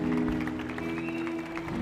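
A church congregation applauds steadily throughout, a dense continuous wash of clapping with music or a held tone underneath.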